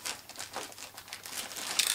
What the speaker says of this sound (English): there's an oversized plastic bag, and carefully rocking it onto its side